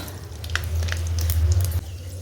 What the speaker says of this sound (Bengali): কড়াতে দিয়ে দেবো তেল, কড়াতে দিয়ে দেবো শুকনো লঙ্কা আর তেজপাতা, পাঁচফোড়ন দিয়ে দেবো,